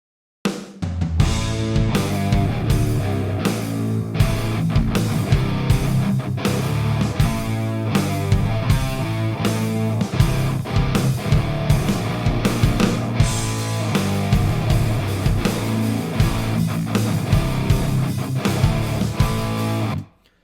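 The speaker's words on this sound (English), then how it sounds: "we're using exactly the same setting and the same parameters in TH-U in every single one of these guitar tracks" Dense heavy distorted electric guitars, three identical tracks through the Overloud TH-U amp plugin, chug through a continuous loud riff with rhythmic palm-muted attacks for about twenty seconds, no talking.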